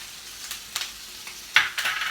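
Crumbled sausage fries in a pan with fresh chopped rosemary and thyme, giving a soft sizzle broken by a few sharper stirring scrapes and clicks. No one talks.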